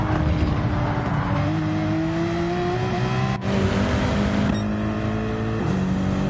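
A race car engine roars steadily up close at Le Mans, its pitch climbing and stepping back through several gear changes as it accelerates.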